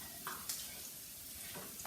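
Chopped bacon with finely diced onion and celery sautéing in a frying pan, giving a steady soft sizzle with a few faint stirring scrapes, close and alone.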